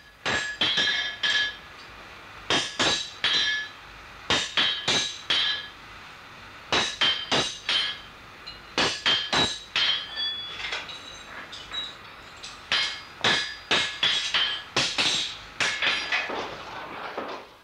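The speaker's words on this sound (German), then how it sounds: "Anschließend werden die aufgestülpten Ränder auf der Ambossplatte sauber beigeschlagen." A blacksmith hammers the turned-up edges of a cow shoe flat on an anvil plate, sharp metallic ringing strikes falling in quick bursts of several blows, separated by short pauses, close and loud with no talk.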